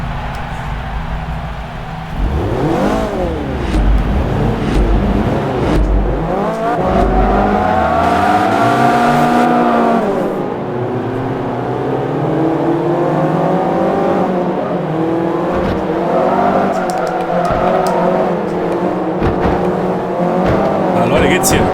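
Race cars in Forza Motorsport 3 roar together with engines rising and falling through gear changes, a dense, continuous racing drone with occasional tyre noise, and a voice talking over it.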